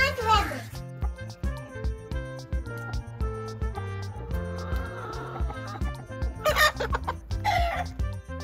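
A small child imitates a rooster crowing, giving short rising clucking calls over a looping music track, with an adult voice nearby.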